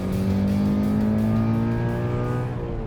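Inside a 2018 Subaru BRZ tS, the engine pulls hard under acceleration, its droning tone climbing steadily in pitch through the gear, loud and continuous with no talk.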